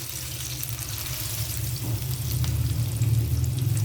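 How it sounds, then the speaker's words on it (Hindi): Fish pakoras dipped in gram flour batter sizzling in a pan of oil, a steady close frying hiss with a low rumble that grows slightly louder. "इसी तरह बेसन में डिप करके हम पैन के अंदर डालते जाएंगे।"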